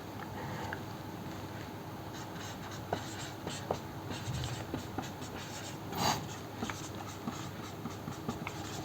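Chalk or marker scratches across a classroom board while a chemical kinetics rate-of-reaction expression is written out, a steady run of close, dry strokes and taps with no one speaking.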